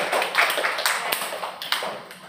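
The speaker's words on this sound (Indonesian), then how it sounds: "beri tepuk tangan untuk kelompok teman" Students in a classroom clapping for a classmate group, a loose patter of hands with a few sharper individual claps standing out, close and moderately loud, without talk.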